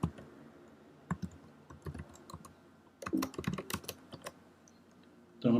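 Bursts of clicky keystrokes on a computer keyboard: a few scattered taps, then a quick flurry of typing, close and fairly quiet with no voices.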